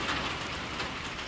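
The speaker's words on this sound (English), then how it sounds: "And just listening to that rain on a tin roof," Rain drums on a tin roof in a steady, even hiss of dense patter, close and continuous for just over a second with no voices.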